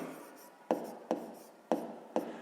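Pen writing on paper while solving a sixth-grade maths exercise: close, scratchy strokes with five sharp taps or dashes at irregular intervals, each followed by soft rubbing, alone without speech.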